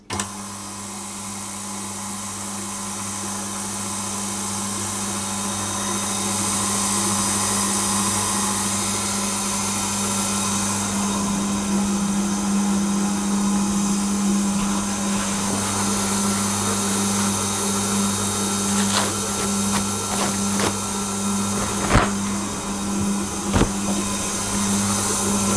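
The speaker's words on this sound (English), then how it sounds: "So I'm going to mix this until it starts to come together," A stand mixer works bread roll dough for Kaiser rosette rolls in a steady motorized hum, with a constant low whir and occasional knocks and scrapes toward the end, heard alone without talk.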